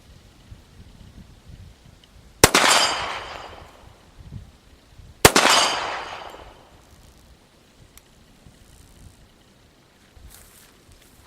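Two loud gunshots from a Ruger SR1911 pistol fired at a 40-yard target, spaced a few seconds apart, each a sharp crack with a lingering outdoor echo.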